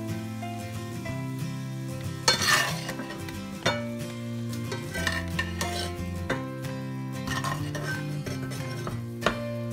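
Cooked prawns are scooped out of a pan into a bowl while making prawn masala, with scraping and stirring, a few sharp utensil clinks against the metal, and a faint sizzle underneath, close up, without talking.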